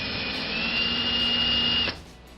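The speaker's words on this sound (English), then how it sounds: "drill a hole in the tops of them" A power drill boring a hole in oak wood: a steady, loud high-pitched motor whine for about two seconds, then cutting off abruptly into quiet.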